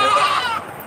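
A goat at a livestock market in Padre Garcia, Batangas gives one short, close bleat that fades away within a second.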